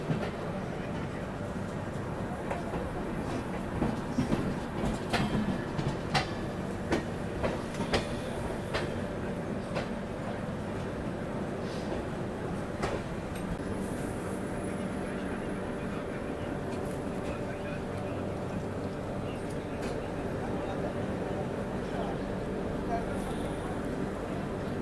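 Indian express trains, the Howrah–Amritsar running alongside the Netaji Express just after leaving DDU, rumble steadily on parallel tracks, with a sustained low roar and a burst of rhythmic wheel clatter early on, fairly loud and continuous.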